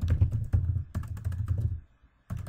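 Rapid typing on a computer keyboard, close and steady clatter of keys that pauses briefly before resuming.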